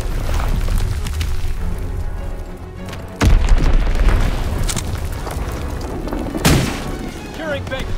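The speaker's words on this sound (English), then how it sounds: "Enemy mortar fire incoming!" Heavy booming mortar explosions in the World War II shooter Call of Duty: WWII, with two big blasts standing out over a constant din of battle noise and shouting voices.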